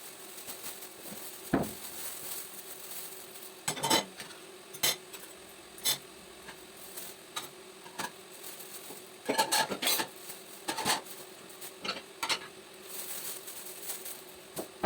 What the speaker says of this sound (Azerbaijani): Qablarımı yudum, qablar bitti.